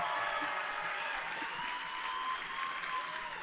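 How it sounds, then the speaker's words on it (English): A crowd at the Pax East gaming convention claps and cheers after a Gearbox announcement, a dense, sustained wash of applause heard from within the hall without any speaking over it. "You may applaud."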